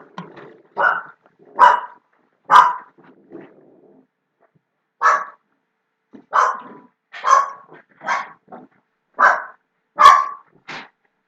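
A pet dog, a female, barks in a series of about ten sharp, fairly close barks spaced irregularly, with a short pause partway through and no talking over them.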